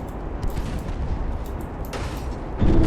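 Naval combat in Ultimate Admiral: Dreadnoughts, a torpedo launch and hit on a ship: a steady rumbling roar of battle noise, with a heavier low booming impact near the end.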